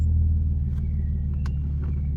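A supercharged Audi S4 sits at a loud, steady idle just after starting, a deep close rumble holding even for a couple of seconds with a few faint clicks over it and no voices.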